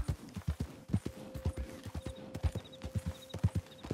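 Horse hooves clip-clop at a steady walking rhythm in the video game Red Dead Redemption 2, fairly quiet and evenly paced, with faint tones behind and no talking.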